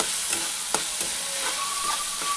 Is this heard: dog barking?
no